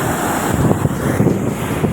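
Water pouring over a dam filled to capacity, heard as a continuous roaring rush mixed with heavy wind buffeting the microphone outdoors.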